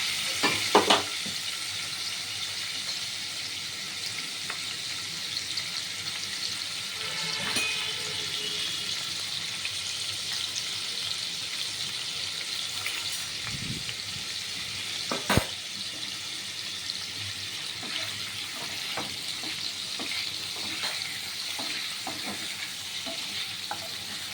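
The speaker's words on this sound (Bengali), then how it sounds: "এখন এই পনিরগুলো আমি একটু ভাজা ভাজা করে নেব" Paneer cubes fry in a pan for a paneer and potato curry, a steady moderate sizzle close by with occasional spatula scrapes and knocks, and no talking.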